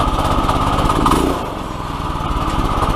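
A 212cc Predator engine mounted on an ATV quad runs steadily at its first startup with a loud, close, chugging drone that eases slightly partway through.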